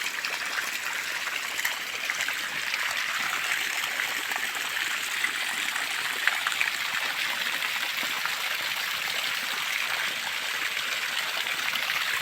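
Steady, full rush of hot water gushing from a pipe for irrigating a sugarcane field, pouring continuously without pause, hissy and bright, with no voices over it.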